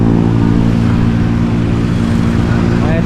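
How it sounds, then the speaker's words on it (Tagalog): Motorcycles on a mountain road at Devil's Corner, Marilaque, ridden alongside a Yamaha Mio Gravis scooter: a loud, continuous engine drone with steady humming tones and wind rush, never dropping away. "Tingnan nyo na may mga motor,"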